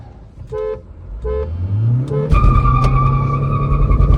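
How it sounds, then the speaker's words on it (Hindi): At the launch of a drag race between a 2022 Toyota Fortuner and a 2022 Hyundai Verna, a horn sounds three short toots. Then an engine revs up, tires squeal loudly with wheel spin, and a rising engine roar follows. "भाई क्या ही व्हील स्पिन था, मतलब क्या ही व्हील स्पिन।"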